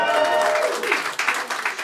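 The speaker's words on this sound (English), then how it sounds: "You can clap for that, I guess." Brief applause from a comedy club audience, scattered and moderate, tapering into uneven individual claps after a lingering tone at the start.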